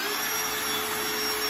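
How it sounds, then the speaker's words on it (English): A cordless drill on its screw setting, clutch engaged, drives a 2-inch screw into clamped wood for a chaise lounge build, giving one loud, steady whirring whine with no talking. "My drill is set up to the screw setting rather than the drill bit setting, so the clutch is engaged."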